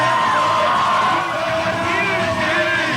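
A Virginia Beach crowd yelling and whooping for an inline vert skater at the 1998 X-Trials, a loud, sustained roar of cheers with voices mixed in.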